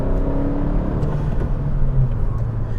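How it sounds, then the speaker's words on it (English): Steady, loud engine drone from inside a 2017 Honda Civic Si with about 100,000 miles as it accelerates, with a thin turbo whistle just audible above the rumble. "You hear the turbo whistling sound just a little bit"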